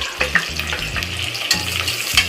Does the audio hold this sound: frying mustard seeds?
yes